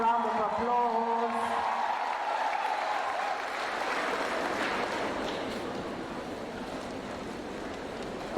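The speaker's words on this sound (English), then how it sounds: "Irene, let's give you a big round of applause." Audience applause, a broad wash of clapping that swells after a voice and a tonal sound at the start, then slowly tapers off.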